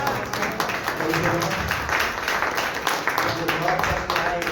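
A congregation at a Hindi-language Sunday church service applauds, with dense, continuous clapping from many hands filling the room throughout at a fairly even level.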